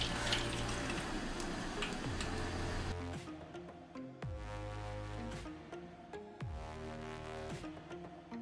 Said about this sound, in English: I guess the oil is very hot now, so I'm going to add my plantain to the oil.